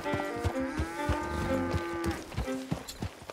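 Cattle in the video game Red Dead Redemption 2 moo repeatedly, several overlapping drawn-out lows close by, mixed with soft hoof clops and thuds, no talk.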